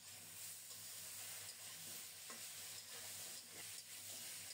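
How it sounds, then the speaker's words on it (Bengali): Ridge gourd and potatoes fry in a pan, producing a faint, steady hiss of sizzling with soft stirring strokes throughout. "আরও 2-3 মিনিট আলুর সাথে ঝিঙ্গেটাকে ভালো করে কষিয়ে নেব।"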